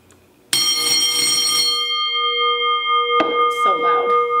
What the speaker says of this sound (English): Is if a school bell was rung.